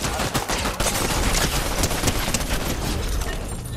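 Video game gunfire: a dense, continuous rattle of rapid shots, loud and close, with no talking.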